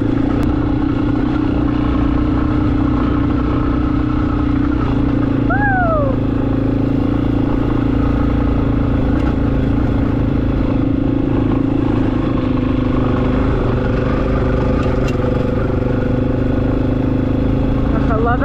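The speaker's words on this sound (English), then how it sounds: "I love that my bike can handle all of this." A Yamaha XT250 dirt bike rides through snow, its engine droning steadily and close throughout, with a brief rising whine midway and a rider's voice exclaiming over the motor.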